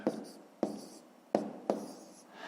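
A pen scratches numbers onto paper while a math exercise is worked out by hand, four short strokes at uneven intervals, each a quick scratchy rub up close and alone.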